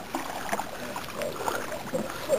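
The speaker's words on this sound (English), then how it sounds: "Paddle, throw your weight into it." Canoe paddling on the Rum River, with soft water splashes and strokes on a gentle outdoor background, moderately close and fairly quiet.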